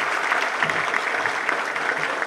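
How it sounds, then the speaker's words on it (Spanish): A graduation audience applauds a graduate who has just finished speaking, a loud, continuous roll of many hands clapping with slight swells, no voices over it. "fuertes aplausos para Hernán Nicolás Misquinís"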